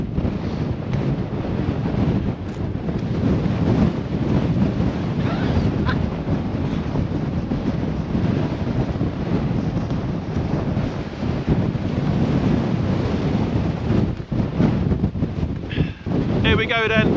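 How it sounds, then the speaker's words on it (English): A gale blasts across an exposed hilltop on the Roaches, a loud continuous roar of wind battering the microphone, with a voice briefly heard beneath it. "it's blowing a gale"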